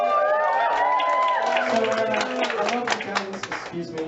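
A school crowd at a sports day celebration cheers, whoops and claps in a loud, dense burst, with voices shouting over the noise throughout.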